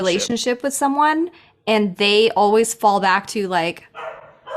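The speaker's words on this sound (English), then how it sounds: "you can probably hear my dog barking" A dog barks in the background of a room while someone talks steadily over it, with the barking mostly masked under her voice.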